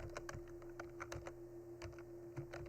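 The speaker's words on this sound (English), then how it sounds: "then I'm going to type what is in the textbook." Fast, steady typing on a computer keyboard, a dense run of soft key clicks over a faint constant hum, close but quiet, no talking.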